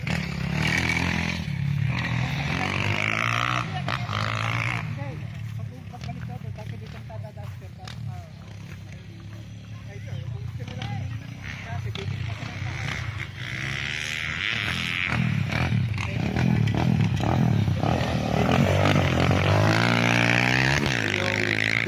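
A motorcycle engine idling and revving beside a roadside farm lot in Nagcarlan, Laguna, a steady close drone that swells toward the end, with voices talking over it at times.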